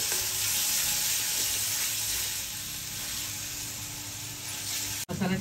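Homemade ginger-garlic-coconut masala paste for jackfruit kofta curry fries with a steady close sizzle and soft stirring, holding even throughout before a sudden brief cutoff near the end, with no voices.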